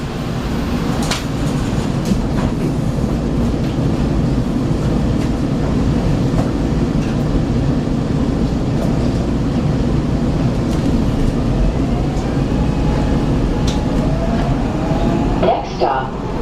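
A SEPTA Market-Frankford Line subway train rumbles steadily and loudly throughout as it pulls out of a station, with rail clatter and brief high squeals, and a voice is heard over the noise.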